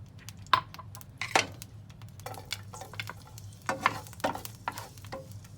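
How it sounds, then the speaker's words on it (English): Garlic frying in olive oil in a pan on medium heat for Spanish garlic prawns: a soft, steady sizzle under scattered clinks and scrapes of stirring, close and moderately loud, with no talk. "we're going to add now the olive oil and garlic"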